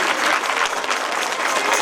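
Loud, continuous applause from a crowd at a Mahashivratri festival closing ceremony in Gopalpura, welcoming a priest named Vishwanath, a dense, steady wash of many hands clapping.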